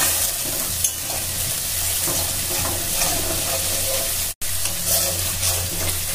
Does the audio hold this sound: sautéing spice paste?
yes